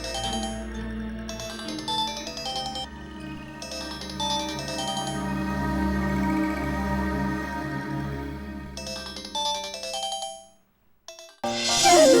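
A phone ringtone plays during a call in a Tamil TV serial, a steady melodic ringing pattern repeating in bursts for several seconds, loud and clear, then breaking off near the end.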